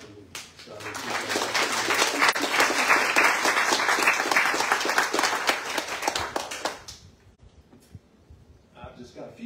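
An audience at a bookshop author event applauds to welcome author Simon Sebag Montefiore, a sustained, dense clapping that rises quickly, holds for several seconds, then fades out as a voice begins to speak.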